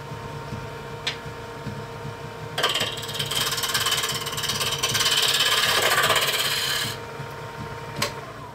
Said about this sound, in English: we're going to throw on our face shield here and just turn these down to round.